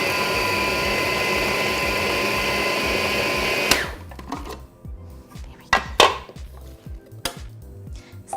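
A food processor pulses butter and brown sugar into a crumble topping for a pear and rhubarb crumble, a loud continuous whirring motor for almost four seconds, then stopping, followed by scattered lighter clatter and bumps of the bowl and blade.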